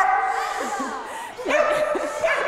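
Dogs woken at a home bark and yelp in short, whiny bursts, fairly close, with voices talking over them.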